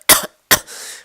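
Two sharp coughs close to the microphone, the second trailing into a short breathy rasp.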